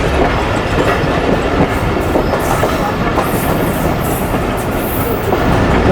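The Millat Express passenger train rolls along the main line in Pakistan, heard from on board as a loud, continuous rumble with rhythmic clickety-clack of wheels over rail joints and faint squeals.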